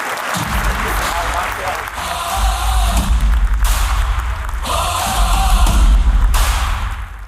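An audience bursts into sustained applause at a formal Armenian party event welcoming Gagik Tsarukyan. The dense clapping swells and stays loud throughout.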